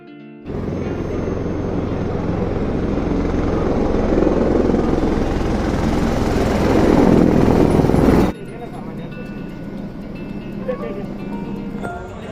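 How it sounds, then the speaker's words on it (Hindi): A loud, constant helicopter roar on the Vaishno Devi pilgrimage route, rising slightly in intensity, then cutting off abruptly, leaving a quieter background hum. "चलिए अब हेलीकॉप्टर की यात्रा की जाए"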